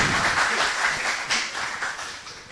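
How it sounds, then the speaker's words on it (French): Crowd applause at a school competition between Lycée Alexandre Pétion and Lycée Jean Mary Vincent as a team is announced, a steady wash of many distant hands filling the space, moderately loud, no voices on top. "Sur vos applaudissements, s'il vous plaît."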